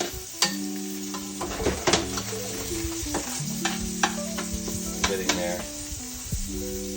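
A pork chop sizzles loudly in a pan of butter while it is basted, a steady close frying hiss broken by repeated spoon clinks and scrapes against the pan, with no voices.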